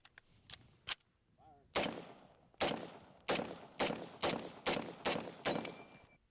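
Rifle shots from an M1 Garand, heard from downrange as a series of sharp supersonic cracks: two faint early snaps, then seven loud, evenly spaced bangs, each trailing a short echo.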